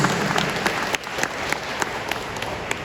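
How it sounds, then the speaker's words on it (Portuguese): A church congregation applauds during a Pentecostal sermon, giving steady, loud, dense clapping that fills the space throughout. "Pode aplaudir, vocês entenderam?"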